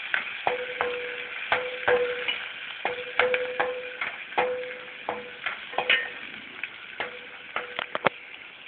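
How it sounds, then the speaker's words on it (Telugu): Green chillies and curry leaves frying in oil for mirchi chutney, a steady crackling sizzle punctuated by repeated sharp taps and scrapes of a spoon against the pan. "వేసి వేయించుకోవాలి"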